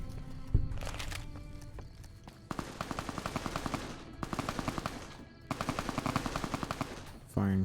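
Bursts of gunfire in Fallout: New Vegas, Honest Hearts, firing from a distance: a single loud shot, then three long rapid automatic volleys separated by short pauses, sharp and punchy in a busy game battle.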